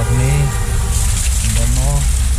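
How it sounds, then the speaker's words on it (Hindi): Motorbike being washed with a water jet at a service station, a steady hissing spray running throughout under loud nearby talk. "आ गए हैं सर्विस स्टेशन पे और बाइक धो रही है अपनी"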